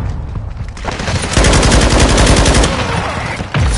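Automatic gunfire from Call of Duty: Modern Warfare II. Loud, rapid bursts rattle out in a dense, continuous stream for several seconds, then give way to a final sharp report, with no voices over it.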